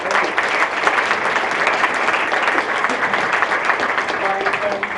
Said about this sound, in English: So if you would join me in a round of applause